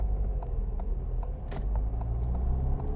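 Car engine pulling away in first gear on light throttle, a steady low rumbling drone with faint mechanical ticks, close and continuous with no talking.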